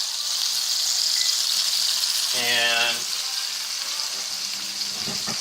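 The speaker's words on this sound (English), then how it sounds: "I've got the second batch of peppers in there, sizzling" Steady loud sizzling of peppers frying in a hot skillet, with a brief spoken word partway through.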